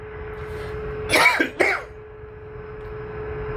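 A short pair of harsh coughs close by, breaking a quiet background hum.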